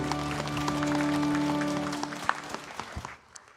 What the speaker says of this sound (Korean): 우리 주님께 영광의 박수를 드리겠습니다.